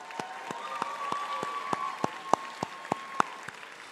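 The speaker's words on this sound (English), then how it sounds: "Clap it up." A graduation audience applauding, the clapping coming as a sparse, rhythmic series of distinct claps about three per second over a soft background murmur, moderately near.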